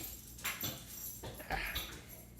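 A dog whimpers and yips in short, close bursts, with a faint background hum between the cries.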